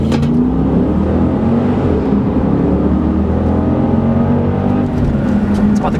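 Jeep Grand Cherokee SRT-8 V8 exhaust roaring at full throttle from inside the moving vehicle, a steady loud deep drone with rising harmonics as it accelerates, continuous for several seconds.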